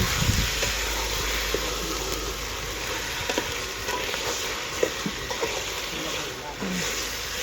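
Pork frying in a pan gives a continuous close sizzle, with scattered clicks and scrapes of stirring and someone talking over the cooking.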